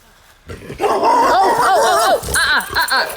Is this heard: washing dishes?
no